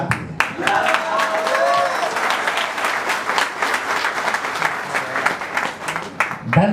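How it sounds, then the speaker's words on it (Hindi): A seated audience at a live speech event in Ahmedabad bursts into applause, clapping densely for several seconds before the sound thins into scattered claps. "मुझे केवल ताली वाली आवाज ही पहचान में आती है।"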